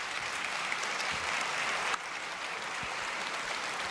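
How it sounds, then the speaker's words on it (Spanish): An audience at a political talk about labour reform applauds, a steady dense patter of clapping sustained throughout at moderate distance, with a slight dip in intensity about halfway. "Múltiples aplausos."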